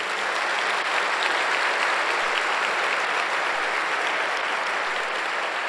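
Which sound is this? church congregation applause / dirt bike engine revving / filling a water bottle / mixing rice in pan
church congregation applause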